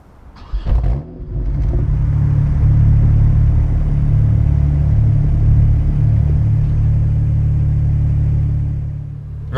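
A BMW 1M engine starts with a rising blip, then settles into a loud, deep rumbling drone that holds steady close by for several seconds before easing slightly.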